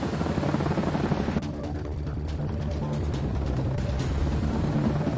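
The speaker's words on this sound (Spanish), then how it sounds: "Vamos al video del helicóptero" A helicopter from a military extraction scene near a coastline plays back as a steady, loud rotor and engine drone throughout, with a brief high-pitched electronic tone partway in.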